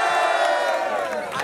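A crowd at a Spanish rap battle roars and cheers loudly and continuously, a thick wall of shouting voices with no pause.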